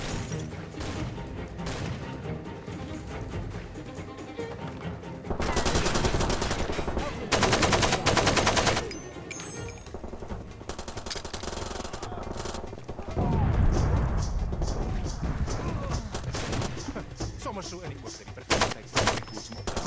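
Gunfire in the video game Far Cry 2, with loud bursts of rapid automatic fire in several clusters between quieter stretches of game sound, close and dominant.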